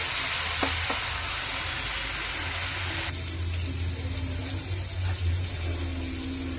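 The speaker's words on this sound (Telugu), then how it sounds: "బాగా ఫ్రై అవ్వాలండి మసాలా." Masala frying in a pan for an egg and potato curry: a loud, steady, close sizzle with a couple of brief stirring knocks, continuing unbroken with no talk.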